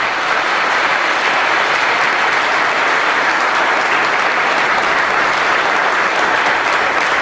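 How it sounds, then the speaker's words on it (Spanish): Loud, sustained applause from a church congregation, a thick, continuous roar of many hands clapping at close range that holds steady without pause or voices. "démosle un aplauso más fuerte todavía."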